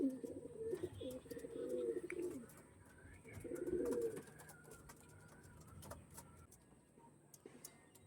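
Pigeons kept for flying give low, throaty coos in two rolling bursts, close by, over faint chirps and background noise.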